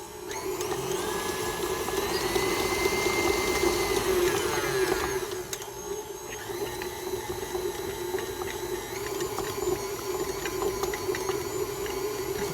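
An electric mixer beats water and powdered icing in a bowl, a steady loud motor whir with rattling beater clatter that drops slightly in pitch and load about halfway through and then runs on evenly.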